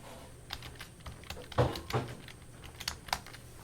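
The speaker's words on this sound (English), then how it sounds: "So I will put in Supervisor Barry's password" A password is typed on a computer keyboard, with a quick, irregular run of light, close key clicks spaced over a few seconds, a couple of louder taps standing out, and no talk.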